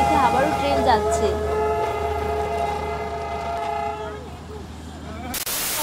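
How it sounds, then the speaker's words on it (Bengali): Darjeeling toy train passing on the Batasia Loop, with a long sustained horn blast and steady rumble of the train, loud and near, and people talking faintly under it. "তার ভিতরে দেখে আবারও ট্রেন যাচ্ছে।"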